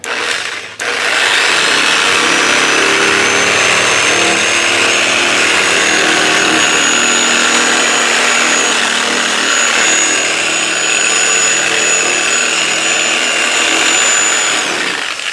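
A machine polisher buffs M105 compound across a polycarbonate headlight lens at slow speed. It gives a loud, steady, close whir with a faint high whine, running unbroken after a brief start.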